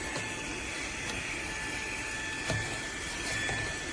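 A Fanttik Slim V8 Apex cordless handheld vacuum running on its low setting while picking up sawdust, giving a steady, continuous whine and airflow hiss that holds level throughout with a few faint bumps.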